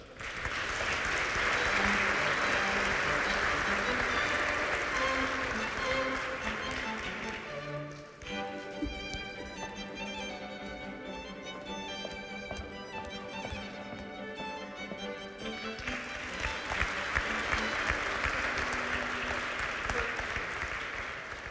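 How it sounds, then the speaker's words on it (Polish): Audience applause at a Polish regional business awards ceremony, the Świętokrzyska Wiktoria gala, as a prize is handed to a company: sustained dense clapping, loud and close, easing mid-way under music-like tones before swelling again. "Raz jeszcze poproszę o wielkie brawa."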